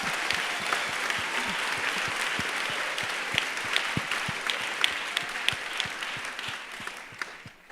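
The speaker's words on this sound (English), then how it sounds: "you're all supposed to wildly cheer" An audience at a Margaret Atwood lecture applauds steadily, a broad bed of clapping with distinct louder claps standing out at a regular pulse, fairly loud and continuous with no speech over it.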